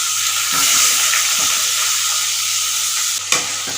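Cubed potatoes fry loudly in hot oil for a fish-head curry, a dense continuous sizzle close by, broken by soft stirring scrapes and one sharper knock near the end.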